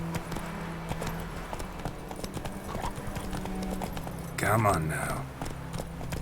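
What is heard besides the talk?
horse Roach's hooves in the Witcher 3 video game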